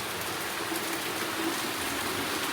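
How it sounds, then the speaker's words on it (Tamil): Heavy monsoon-season rain pours down in a hilly, tree-covered area, a dense, even hiss of drops drumming on surfaces that stays constant and close, with no voices. "ஜோராக மழை பெய்யுது மழை காலம் தானே"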